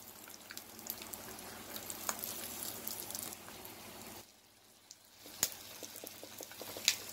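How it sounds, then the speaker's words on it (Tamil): Peanuts sizzling in hot oil in a home kitchen pan for tomato rice, a steady crackling fry with scattered sharp pops, briefly quieter midway before the sizzle resumes, no talking. "இதில் எண்ணெய் வச்சுட்டுருக்கேன், அதில் பீனட்ஸ் போட்டுருக்கேன். இது கொஞ்சம் பொரிஞ்ச உடனே"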